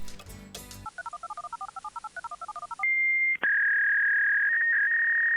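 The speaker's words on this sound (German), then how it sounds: "Mit Großbergs Telefonnummer in der Tasche benutzt man dann nur das Telefon im Huberhof" Telephone at the Huberhof in the game Gabriel Knight: The Beast Within being dialed to an American number, a quick run of about fifteen touch-tone beeps followed by steady ringback tones, clear and close.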